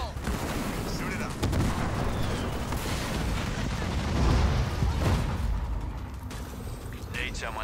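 Gunfire from enemy ground troops in the Halo Wars 2 strategy game, fighting ODST Helljumpers: a dense, steady battle mix of shots and heavy mechanical rumble with a few louder swells.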